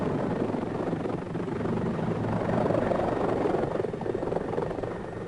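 A military helicopter used by Norway's Jaeger Corps special forces flies, giving a steady, continuous rotor and engine drone that stays fairly close and swells slightly midway, with no voices.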